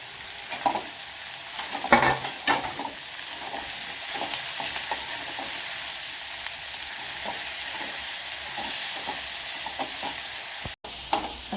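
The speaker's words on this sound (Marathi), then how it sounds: "कांदा आलं लसूण डोबळी चांगलं परतवलं का कोबी त्यामध्ये" Onion, ginger, garlic, capsicum and cabbage are stir-fried for street-style veg noodles: a continuous sizzle with repeated scraping and tossing strokes of a spatula close by.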